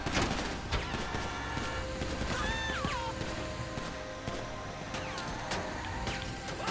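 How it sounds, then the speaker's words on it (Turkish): Gunfire and bullet sounds from a military truck game, scattered sharp shots over a dense, steady background of music and action noise, with brief whistling tones in the middle. "Arkadaki müzik, mermi sesleri."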